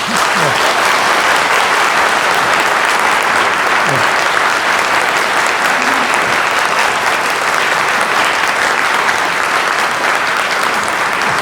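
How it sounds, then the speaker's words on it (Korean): An audience in a church lecture hall gives sustained, warm applause to welcome a lecturer, a dense, even wash of clapping held steadily at full strength for over eleven seconds. "우리 고 박사님 나오셔서 이제 말씀 하실 때 우리가 뜨거운 격려의 박수로 이렇게 반갑게 맞아주시면 좋겠습니다."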